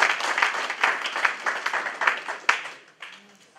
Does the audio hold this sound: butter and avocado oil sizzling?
no